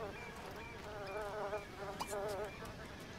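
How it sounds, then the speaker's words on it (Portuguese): Insect buzzing from flies in The Sims Histórias de Náufragos comes in wavering bursts, moderately close, with faint game sounds and brief clicks around it. "Que já tá dando moscas."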